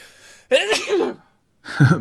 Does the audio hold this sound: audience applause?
no